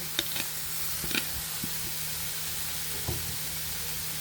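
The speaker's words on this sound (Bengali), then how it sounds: "এখন আমরা মুরগির মাংসগুলো দিয়ে দিব" Shredded chicken hits vegetables already frying in a pan, giving a quiet steady sizzle with a few soft clicks and scrapes of stirring, and no voices.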